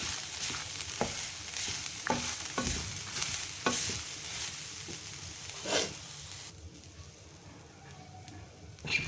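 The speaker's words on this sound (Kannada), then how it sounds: "ಈ ಬಾಣಲಿ ಬಿಸಿಲೇ ಸೊಪ್ಪು ಎಲ್ಲ ಫ್ರೈ ಆಗಿದೆ" Greens being stirred in a hot pan with oil just after the stove is switched off: soft scraping strokes and a quiet, steady sizzle, the stirring scrapes repeating every second or two before fading to a gentler hiss.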